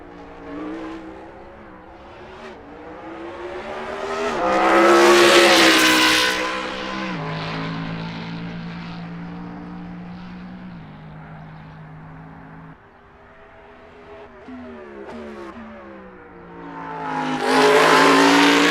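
A video game race car engine screams up through the revs in two high-pitched surges, with steadier droning gear runs between them.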